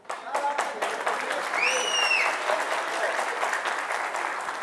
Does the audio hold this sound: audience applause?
yes